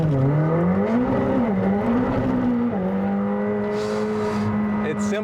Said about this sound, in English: the thing you need to check out when you have a car with that much power is the acceleration